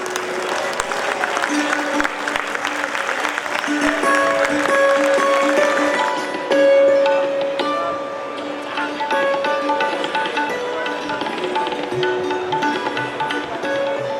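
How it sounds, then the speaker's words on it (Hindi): An audience at a two-day zonal meeting claps through a standing ovation, a steady wash of applause that runs under sustained music tones for the whole stretch. "जरा एक बार स्टैंडिंग ओवेशन में जरा इन लोगों के लिए जोरदार तालियां हो"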